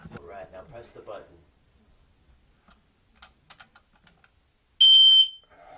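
A person talks briefly, then light clicks and taps, followed by a single loud, piercing high-pitched electronic beep lasting about half a second, from a smoke detector being tested.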